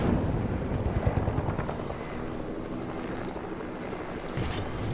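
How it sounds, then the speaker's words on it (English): A helicopter flies overhead in the Fortnite video game, a continuous low rotor throb and broad roar, loud and steady without speech over it. "Oh, I hear a helicopter."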